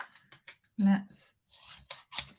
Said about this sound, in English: trim this down. I need my big scissors.